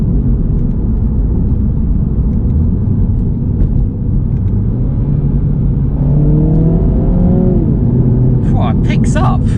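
A Mini Cooper S Resolute Edition engine pulling under acceleration while driving, a loud low rumble with rising tones as it climbs through the revs, heard from inside the car with brief voices near the end.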